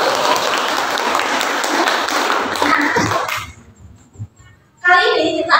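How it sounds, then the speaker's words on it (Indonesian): Students in a classroom clap together in a brief, lively burst that stops abruptly, followed by a moment of quiet and then a teacher's voice. "Tepuk tangan untuk kita dong."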